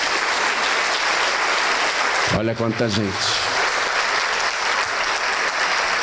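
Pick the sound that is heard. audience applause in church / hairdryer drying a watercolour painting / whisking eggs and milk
audience applause in church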